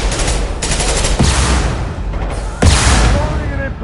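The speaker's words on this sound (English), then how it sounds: "Firing an impact shot." Two loud, sharp gunshot impacts from an impact shot in Mass Effect Legendary Edition ring out about a second and a half apart, each with a booming tail, amid busy game noise and a voice speaking.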